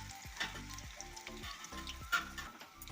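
Drumstick leaf vadas fry in hot oil with a continuous soft sizzle and bubbling, punctuated by a few light spatters and stirring clicks, close and moderately quiet.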